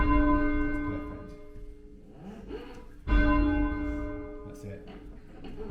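A church bell rung by pulling its rope strikes twice, each loud, ringing stroke decaying slowly over a few seconds, while a voice talks quietly between the strikes.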